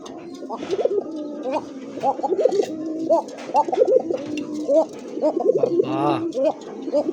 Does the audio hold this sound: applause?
no